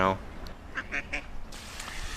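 A few short, nasal duck quacks come in quick succession, close by, over a background of outdoor noise and murmuring voices in Dublin.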